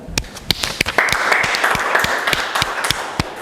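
A small audience claps at a plaque presentation during a cultural film event, with sharp, distinct individual claps standing out over a softer bed of scattered applause that runs throughout.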